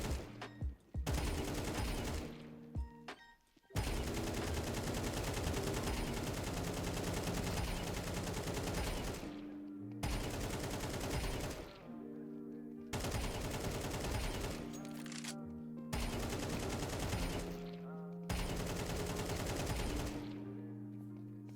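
Long automatic rifle sprays from the game CS2 in a training map with infinite ammo, several sustained bursts of rapid gunfire separated by brief pauses, loud and close with no talking.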